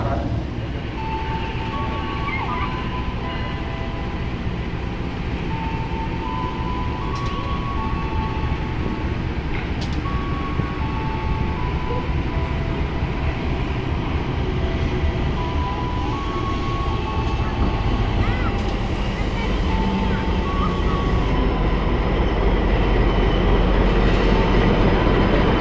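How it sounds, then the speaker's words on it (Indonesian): The Malabar passenger train rolls into Tasikmalaya station on track 2, producing a steady rumble of wheels and carriages with short horn-like tones over a busy platform. Voices can be heard in the background. "ini kereta api Malabar masuk stasiun Tasikmalaya di jalur 2"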